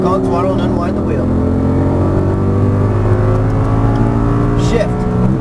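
Audi R8 race car on a track accelerating hard on throttle, a loud continuous engine drone with rising tones heard from inside the car.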